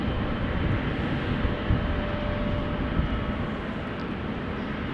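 A Qatar Cargo aircraft at Amsterdam Schiphol Airport makes a constant, heavy jet engine rumble that stays level for several seconds, with no voices.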